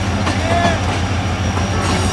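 The 14 Down Awam Express passenger train rolls by close up: a loud, steady low rumble with rail clatter and faint metallic squeals above it.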